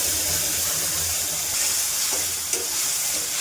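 Potatoes fry in a pan as a spice mix is added, a steady close sizzle and hiss with a light scrape or tap partway through.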